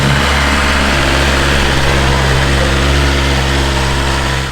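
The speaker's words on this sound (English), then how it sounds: "let's give it a start and see how this feels." A BMW F850 GS motorcycle, fitted with a lithium-ion battery and a non-stock seat, runs at a steady loud idle close by, its deep throbbing engine note holding without pause and no voices present.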